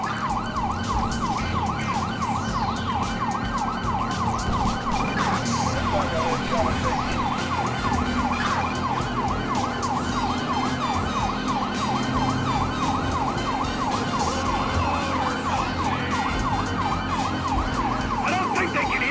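Police sirens wail continuously in Grand Theft Auto V, a loud cycling yelp over steady engine and road noise throughout a car chase.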